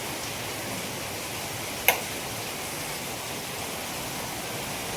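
Heavy rain pours in a dense, even wash of hiss that holds constant throughout, interrupted once by a single brief sharp tick near the two-second mark, with no voices.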